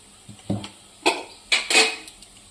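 Spiced, crumbled millet rotlo is mixed in a pan, with four or five distinct metal spoon clanks and scrapes against the pan over a quiet background.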